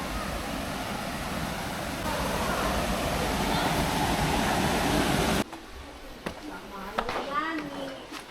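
River current rushes at a dam in Biak na Bato National Park, a loud steady roar of water that cuts off abruptly, after which people talk over quieter surroundings.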